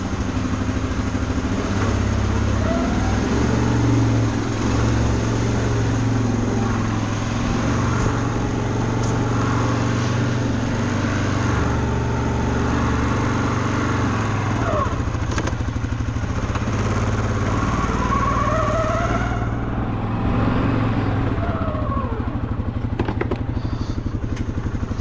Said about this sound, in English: I think it's important to notice how quiet this machine is, right? Just purrs like a kitten